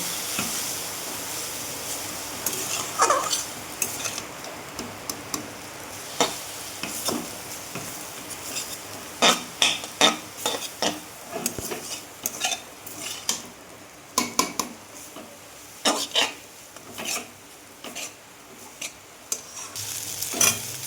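Vegetable chowmein noodles stirred in a hot pan, a low background sizzle overlaid with irregular clanks and scrapes of a utensil against the pan, close by and without talk.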